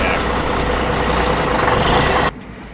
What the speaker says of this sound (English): They're just getting that truck backed in there.